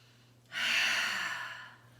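One deep breath during a yoga practice comes as a single close, breathy rush of air lasting just over a second, rising sharply and fading gently into quiet.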